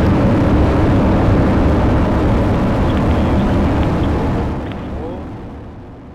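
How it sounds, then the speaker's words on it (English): Atlas V rocket carrying the MAVEN Mars probe lifting off after main engine ignition, a loud, continuous, dense roar that holds steady and then gradually fades as the vehicle climbs away. "main engine start, ignition, and liftoff of the Atlas V with Maven"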